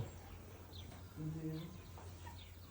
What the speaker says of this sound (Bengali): Roaster chicken. একটাই আছে, এটা হচ্ছে আমাদের দেশি মুরগির মতো